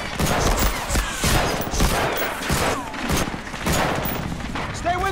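Dense gunfire from the Medal of Honor Frontline video game on the original Xbox, rapid bursts and machine-gun rattle with booming shots on a beach assault, loud and continuous, with faint shouted voices mixed in.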